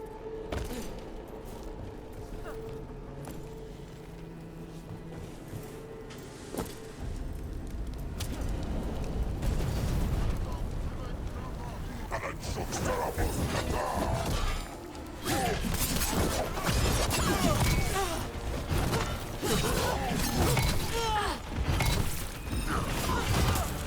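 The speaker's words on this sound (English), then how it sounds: "Cannon fire! Get clear!" Cannon fire during a battle in the video game Dragon Age: The Veil Guard, heavy crashing booms and clattering debris that swell after a quieter opening and stay loud and dense.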